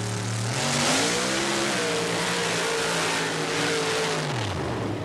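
A Chevrolet 355 cubic inch engine roars in a paddle-tire mud racer, Mud Shuttle 2, at a 1990 Panama City mud race, loud and sustained with pitch climbing through a launch and run before dropping off near the end.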